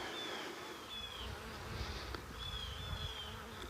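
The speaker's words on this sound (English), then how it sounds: "Look at these old bees right here." Honey bees buzz softly and steadily in a hive, a dense, faint drone with a few individual wing tones rising and falling close by.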